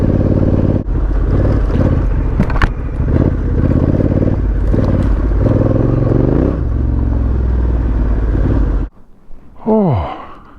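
A Honda Africa Twin motorcycle rumbles loud and close along a dry country lane with wind rush, then cuts out abruptly, leaving a brief quieter tail with a short swooping tone.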